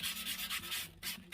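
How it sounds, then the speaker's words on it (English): Brisk rhythmic rubbing of sanding pads on a wooden hand plane tote during restoration, several quick close strokes in a row, fairly quiet with no talking. "Just keep knocking the dust off because they do clog up quite easily with sanding pads."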